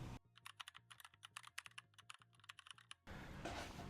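Rapid typing on a computer keyboard, a close run of crisp key clicks in bursts for about three seconds, followed by a brief rush of broadband noise.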